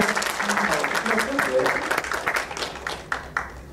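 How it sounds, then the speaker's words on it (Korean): An audience at a motivational lecture by a comedian breaks into applause, the clapping moderately loud and partly overlapped by a speaker's voice, with scattered sharper claps toward the end. "박수 부탁드리겠습니다."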